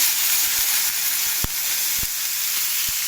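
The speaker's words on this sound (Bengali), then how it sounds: "জলটা দিয়ে দেওয়া হলো। ফুটবে, টকবক করে ফুটবে।" Masala fried down for a fish curry, with water just poured in, hisses with a steady, dense sizzle. A few soft thumps from the pot break through, and no one speaks.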